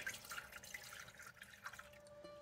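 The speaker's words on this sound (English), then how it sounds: "I'm going to go ahead and add some water." Water poured into a cooking pan on the stove, a quiet trickling and dripping with no talk.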